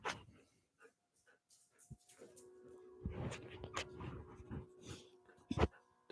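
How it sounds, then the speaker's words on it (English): A dog whines and pants close by in a quiet room, with soft high whimpers and breathy sounds scattered through, a couple of sharper bursts near the end. "Don't be such a jealous puppy."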